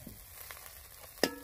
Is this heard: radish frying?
yes